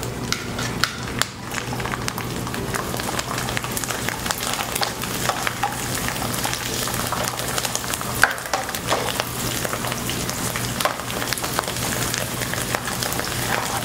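Dried shrimp and shiitake strips stir-fry in hot oil in a wok, giving a dense, steady crackling sizzle with scattered spatula clicks and scrapes, close and continuous throughout, no voices.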